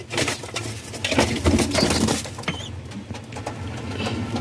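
Soft cooing and rustling of two Giribaz pigeon chicks up close, with scattered scratchy movements and light patter throughout.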